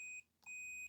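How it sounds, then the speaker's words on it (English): Two short, faint, steady electronic beeps from a multimeter continuity test on an electric kettle's earth pin, with a brief gap between them. "Let's use our meter. We don't need to have the screen in shot because you'll hear the beeps."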